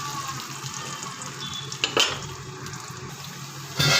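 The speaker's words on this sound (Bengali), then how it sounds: "এবার এটা একটু ফ্রাই করে নেব।" Four or five green chillies fry in a pan, a steady close sizzle with a few sharp clatters of stirring against the metal.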